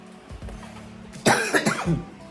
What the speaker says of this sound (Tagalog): Kaya inuubo ako kasi yung hangin na natutulon ko.